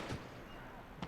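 A recoilless rifle shot in Gates of Hell, a World War II battle game, booms at the start, and a second distant blast follows about a second later, both heavy and low over a constant rumbling battlefield bed.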